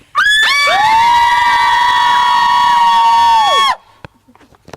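Crowd at a Lamplighter Guild 2016 gathering lets out one loud, sustained scream on a count, lasting about three and a half seconds before cutting off abruptly into quiet murmurs.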